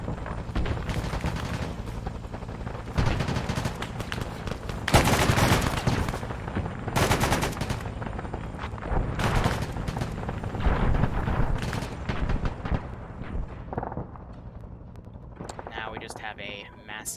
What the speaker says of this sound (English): Massive amount of shooting.